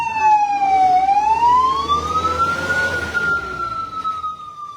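A fire truck siren wails loud and close beside a road near a burning utility pole, one long rising and falling tone sweeping up then holding high, with traffic rumble beneath.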